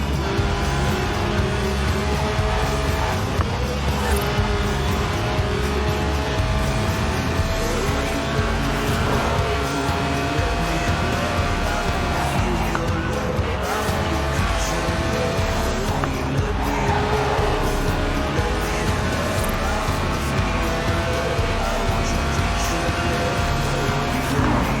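Lotus sports car with a 1.8-litre engine revving to 8,000 RPM in the Forza Horizon 4 racing game, a loud, continuous engine note rising and falling with tire squeal, no talking.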